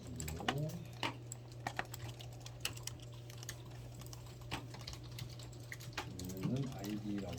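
Computer keyboard typing while coding a WinForm BMI calculator, a steady stream of light, quick key clicks, close and quiet, running under a low hum.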